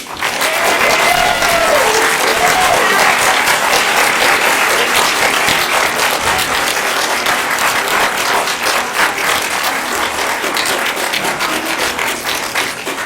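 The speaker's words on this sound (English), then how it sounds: "please stand so we can give them one more round of applause" In a school capstone presentation hall, an audience applauds a student advising group with long, loud, dense clapping that stays strong and close for the whole stretch, easing only slightly toward the end.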